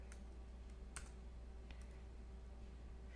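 Slow, sparse typing on a computer keyboard: a few scattered key clicks spaced irregularly over a low steady hum, faint and close.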